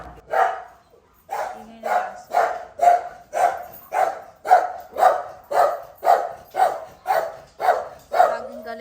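A dog barks in a steady, evenly spaced series of about fourteen loud, close barks after one early bark and a short pause, with little else in between.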